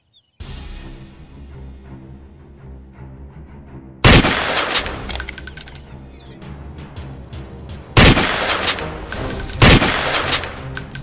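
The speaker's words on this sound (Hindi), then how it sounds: "अरे सांबा उठा बंदूक लगा निशाना।" Gunshots from a gun in a Sholay comedy spoof, a few loud sharp blasts, each followed by a ringing decay, spaced several seconds apart over a steady background.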